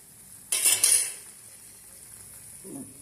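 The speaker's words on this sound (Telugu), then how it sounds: "కానీ నేను ఎప్పుడు పచ్చి సేమ్యా తెచ్చుకొని ఇలా వేపుకుంటాను ఎప్పటికప్పుడు." Raw vermicelli (semiya) being dry-roasted in a pan, a short burst of dry stirring and scraping rustle lasting about half a second, then a quiet pause and a faint soft clink near the end.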